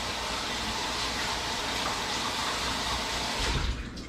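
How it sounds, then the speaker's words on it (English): Tap water running steadily in a kitchen sink while hands are washed during cooking, a close, even splashing rush that swells and breaks up briefly near the end. "Always wash your hands when cooking."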